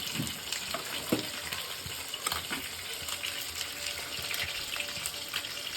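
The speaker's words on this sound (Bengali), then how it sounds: "আমি এখন এর মধ্যে সরষের তেল ঢেলে দেবো" Mustard oil in a hot wok, meant for a jackfruit and potato curry, produces a faint, steady hiss and crackle with scattered small pops and clinks, close by and with no talking.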